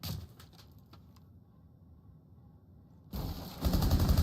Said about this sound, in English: The gunfire.